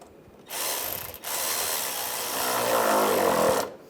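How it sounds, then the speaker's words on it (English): A ratchet tightens a worm clamp on the air intake hose of a 2011-2018 Ram 1500 with the 3.6L V6, giving a steady close whir of rapid clicking that pauses briefly and then runs on for several seconds. "Tighten down the worm clamp."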